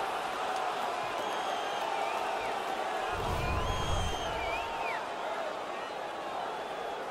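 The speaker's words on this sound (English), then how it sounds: "You can hear the crowd. They knew who won that fight." Arena crowd roaring at a hockey fight between the Sabres and their opponent, a broad sustained cheer with whoops and whistles rising over the ice, distant yet loud, with a brief low thump partway through.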